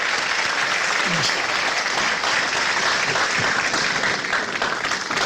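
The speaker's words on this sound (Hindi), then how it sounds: "तालियों के साथ स्वागत किया जाए।" An audience claps in sustained, steady applause to welcome 80-year-old author Abid Surti at a live talk event; the clapping is loud and continuous throughout, with no speech over it.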